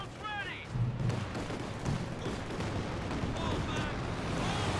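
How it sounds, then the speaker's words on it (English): A Soviet airstrike with a Katyusha rocket barrage in the strategy game Company of Heroes 2, a dense rumbling wash of explosions and artillery blasts under a commentator's voice. "I see an airstrike coming on in. It is in fact the Soviet airstrike."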